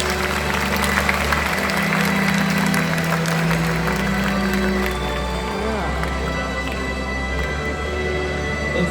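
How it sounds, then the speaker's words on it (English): Audience applause in the Sky Amphitheatre at the Bird Paradise Mandai raptor show, a continuous crowd clapping over a steady low hum of background sound and amplification, fairly loud throughout. "Let's give them a big round of applause."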